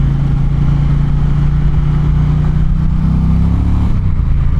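Steady, loud engine drone from an Indian Challenger motorcycle under way, a low rumbling tone that holds constant and then shifts pitch slightly near the end, with no talking over it.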